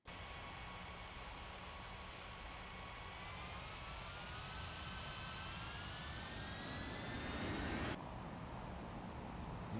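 Jet airliner taking off in a flight simulator game at Bali airport: a continuous loud engine roar with a rising whine that climbs steadily, then cuts abruptly to a duller rumble, no voices.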